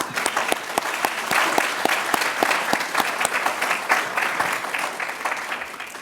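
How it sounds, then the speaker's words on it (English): An audience at a spring business school commencement claps for advisors, staff and faculty in a dense, steady round of applause. Individual claps stand out sharply close by over the broader crowd. "a round of applause for all our dedicated advisors, staff, faculty"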